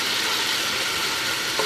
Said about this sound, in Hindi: अब हम दही के साथ इसको भूनेंगे